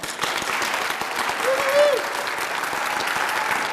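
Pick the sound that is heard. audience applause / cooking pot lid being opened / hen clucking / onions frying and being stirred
audience applause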